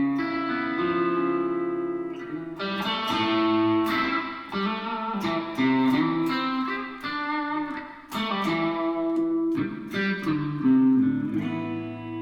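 A P90-pickup electric guitar on a Parker Fly drenched in reverb plays a melodic line of plucked notes and chords, each ringing out with a long wash of echo and effects, loud and close with no talking.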